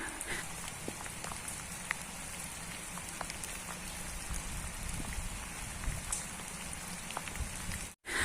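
Steady rain pattering on a surface nearby in a country-house garden in late May, a constant wash of drops with occasional sharper drips, briefly cut off near the end.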